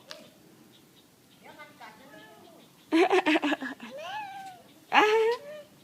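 A cat meows several times, drawn-out and rising, with a burst of loud agitated yowling in between after being stepped on by a child, close by and mixed with background voices.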